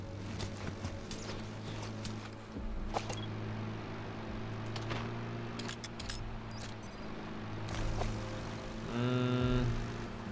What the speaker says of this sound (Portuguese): Barulho de carro, velho.